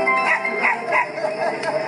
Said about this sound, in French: Oh, regardez ce petit chien.